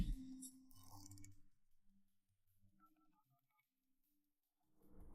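A telephone number dialed on a phone, a short run of quick electronic keypad tones after some brief rustling, in a quiet indoor room, followed by near silence.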